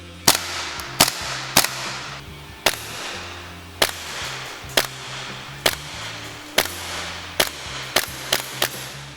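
A Tokyo Marui Desert Eagle Hard-Kick gas blowback airsoft pistol fires about a dozen sharp, close cracks, each with a quick slide clack, spaced irregularly with short pauses and no talking.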